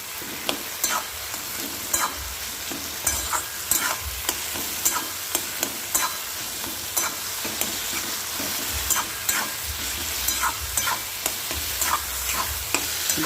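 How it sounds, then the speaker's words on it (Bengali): Eggplant bharta being mashed and stirred with a metal spatula in a pan, giving repeated scraping taps at a steady, uneven rhythm over a faint sizzle, close and clear with no talking. "হাত দিয়ে ভর্তা করলাম না, তো খুন্তি দিয়েই করে নিলাম"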